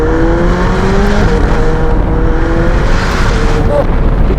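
A McLaren 720S Spider widebody supercar roars under steady throttle, its engine note loud and close with wavering pitch, wind buffeting over the sound.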